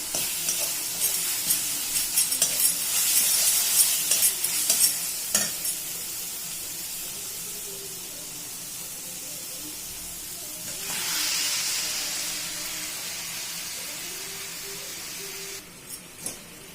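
Marinated chicken frying in masala and oil for a kasundi chicken curry: a loud bright sizzle with stirring scrapes at first, easing to a quieter crackle, then a fresh surge of hissing steam midway.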